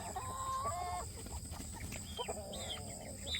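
Chickens cluck and squawk close by, with a rooster's call and busy farmyard chatter throughout.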